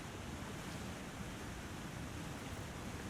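A steady, dense rush of falling water from a waterfall in The Long Dark holds constant and fairly faint, a broad unbroken roar with no voices over it.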